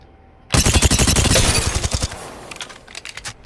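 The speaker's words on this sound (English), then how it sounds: "The last gun I will go to is going to be the Vault." A Volt submachine gun fires a rapid automatic burst in the video game Apex Legends, loud sharp reports in quick succession that tail off into a few scattered shots.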